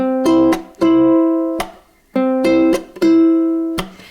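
Ukulele picking in a repeating pattern of plucked notes with percussive taps on the strings, clear and close, played alone.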